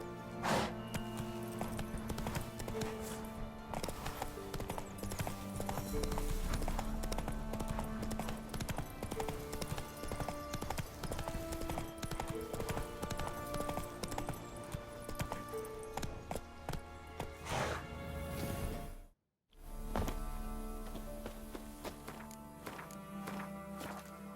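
A horse gallops in The Witcher 3, its hooves beating a steady, close clip-clop over game music that runs almost throughout, with a short break near the end.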